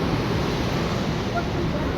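The fast-flowing Saraswati river rushes near its source in an Uttarakhand mountain village, a dense, loud and steady roar of water that fills the whole moment without a break.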